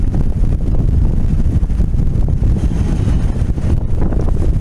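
Wind buffets a boat deck in freezing, snowy weather with ice forming, a loud continuous low rumble of gusts across the microphone, steady throughout with no talk.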